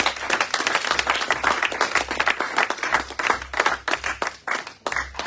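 A church congregation claps and applauds in praise of the Lord, a sustained wash of many hands clapping close and loud for several seconds, with rhythmic surges and no clear speech over it.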